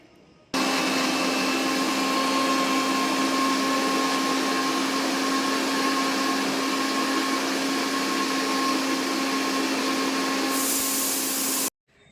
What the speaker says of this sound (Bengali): এই যে এবার আমি এটা ব্লেন্ড করব